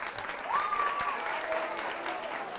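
Studio audience applauds four competing schools on a Terrassa television quiz show, a steady wash of clapping sustained throughout, with a sustained tonal sweep running through it.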